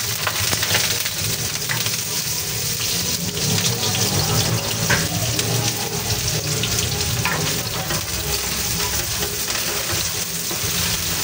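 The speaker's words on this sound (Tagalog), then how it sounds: "Magigisa na tayo ng sibuyas" Steady, dense sizzling of onions sautéing in a hot pan, a continuous crackling hiss that fills the whole stretch without pause.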